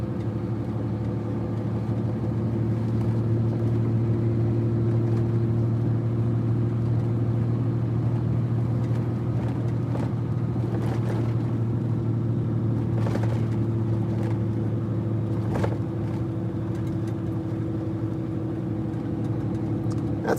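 Vehicle driving home on back roads, a steady close engine drone and road rumble that runs the whole time without a break, with a few faint knocks and rattles from the cabin.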